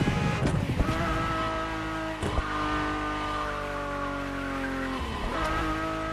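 A Ferrari supercar in the racing game The Crew Motorfest roars loudly with a sustained high engine note, with tire squeal and skidding as it shifts through gears, up close and without talk.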